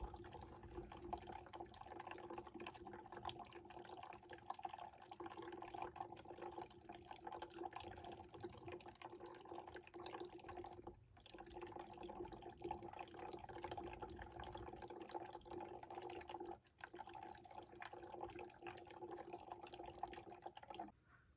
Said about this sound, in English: My wife just turned on the hose.